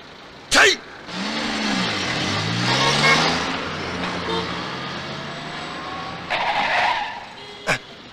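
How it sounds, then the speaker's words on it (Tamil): A car brakes hard to a sudden stop, its tires skidding and squealing loudly for several seconds. A sharp thump comes before the skid and another short burst follows it, with people talking around it. "என்னப்பா கார் திடீர்னு நிறுத்திட்ட?"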